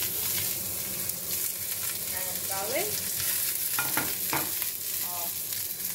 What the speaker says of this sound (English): I love that sizzling noise in the kitchen.